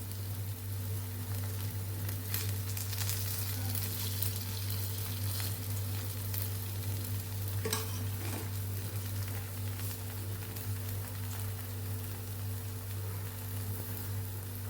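Bajra flour pancake batter spread thin in a pan and cooking over a low gas flame, giving a steady, even sizzle and crackle that runs unbroken throughout with no voices.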